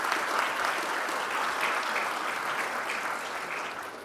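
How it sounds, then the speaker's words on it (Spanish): An audience at an institutional presentation gives dense, sustained applause after a minister's speech. The clapping stays steady and full throughout with no talking. "vamos a saludar con un aplauso las palabras del ministro"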